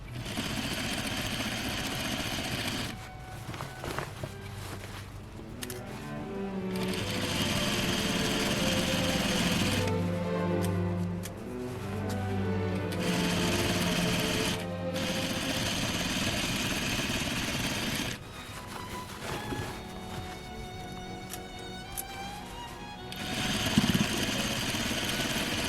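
A sewing machine stitches down the wide hem of a 1960s vintage Vogue dress, running in bursts of rapid mechanical whirring with short pauses between runs and no talk.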